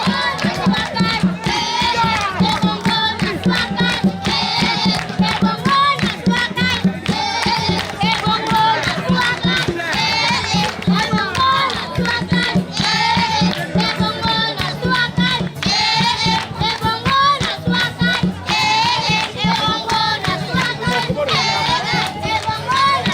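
A crowd at a community gathering in Ikata watches children dance, with loud, sustained voices, shouts and rhythmic movement filling the scene throughout.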